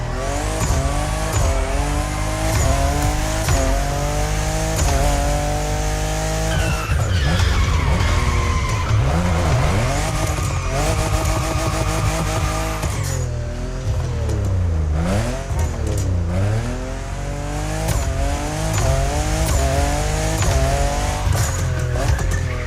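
A Toyota Supra races around a lighthouse in The Crew Motorfest, its engine holding a loud, steady roar while the tires squeal and skid through corners, with pitch sweeping up and down as it shifts and slides.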